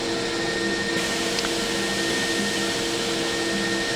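Vertical band saw with a 1.25-inch blade and variable speed running steadily, a constant mechanical whir with faint tonal hum throughout, no talk.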